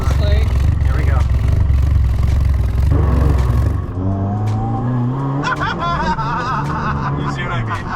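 Mitsubishi Evo 8 engine roars loud and close in a steady high-rev drone, then drops as the car pulls away, leaving a lower shifting engine note with voices chattering over it.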